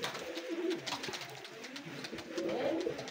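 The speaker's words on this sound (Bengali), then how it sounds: "লাল জাতের কবুতর, খুলনার ঐতিহ্যবাহী লাল জাতের কবুতর" Pigeons coo softly at a busy pigeon market in Khulna, low throaty calls repeating under a murmur of crowd noise, fairly faint and continuous.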